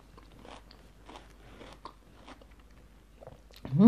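Crunchy vegetables from a spicy mixed-vegetable sour curry being bitten and chewed close to the mouth, giving soft crisp crunches across a few seconds before a louder burst at the end.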